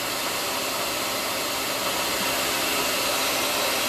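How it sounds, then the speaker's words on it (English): Hair dryer on the cold setting blowing over freshly applied makeup, a loud continuous airy whoosh running unbroken from start to finish with no voices. "Now I take this and I shoot it with cold air."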